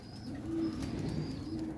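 A baby pigeon, a young breeder-quality bird, cooing softly in a few low, gentle murmurs close by with no talking.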